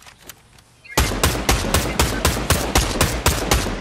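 Rapid video game gunfire rings out in a regular burst of sharp, loud shots, following a quieter few pops, with no talk over it.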